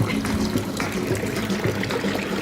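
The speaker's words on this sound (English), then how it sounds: "There's a secret fountain back here" Drinking fountain water trickling and splashing steadily at close range in a Granada plaza, a continuous liquid patter with a faint low hum of the outdoor surroundings underneath.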